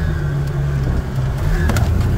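A Kubota Sidekick RTV XG-850 utility vehicle drives in low gear through snow, its engine giving a steady, close drone with no talk over it.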